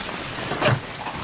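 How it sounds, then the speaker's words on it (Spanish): Rain falls heavily during a storm at a cabin in Germany, a dense continuous wash of hiss with a brief low swell in the middle. "Cuando termine la tormenta"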